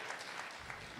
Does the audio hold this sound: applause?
yes